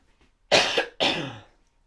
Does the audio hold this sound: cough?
yes